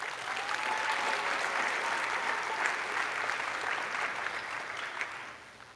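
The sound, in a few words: audience applause for teachers and parents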